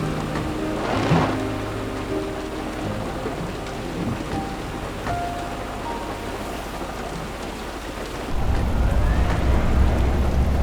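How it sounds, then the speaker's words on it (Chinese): Steady rain with distant rolls of thunder around a car during a drive, a continuous hiss that swells noticeably louder toward the end as the downpour intensifies, with no voices. "下雨影响视线"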